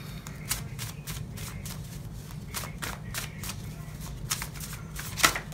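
Tarot cards shuffled close up in repeated soft riffling bursts over a low steady hum, with one sharper snap near the end.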